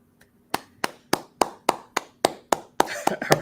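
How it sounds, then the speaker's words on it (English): Hands clapping in a round of applause, a steady series of sharp claps, about ten evenly spaced, then thickening into denser overlapping claps toward the end. "Round of applause."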